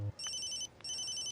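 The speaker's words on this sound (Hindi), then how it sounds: "अबे किसका फोन है?" A telephone ringtone in a Hindi film scene rings in two bright electronic bursts with a short gap between, clear and close, with no voices over it.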